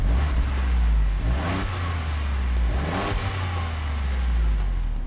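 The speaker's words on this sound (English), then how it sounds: "Select Sport mode and the exhaust note growls accordingly in the cabin." Exhaust growl of a 2019 Ford Edge ST in Sport mode, heard from inside the cabin: a deep, steady engine drone with two rising-and-falling revving swells, no talking over it.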